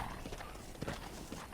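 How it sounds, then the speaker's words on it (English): A horse in the Red Dead Redemption video game clip-clops with a few quiet hoofbeats under a low game soundscape, close and brief. "This is my new horse."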